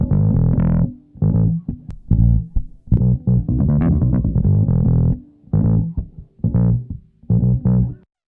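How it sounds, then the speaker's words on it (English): Bass guitar played through a distortion effect, gritty mid-range notes in loud phrases with short gaps, a steady groove of plucked notes running throughout. "Notice you can hear more definition as the distortion brings up the mid-range."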